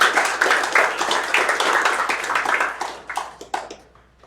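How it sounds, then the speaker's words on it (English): An audience at a snooker exhibition claps steadily for several seconds, a dense, close patter of many hands that thins out toward the end. "Applaud loudly, cheer,"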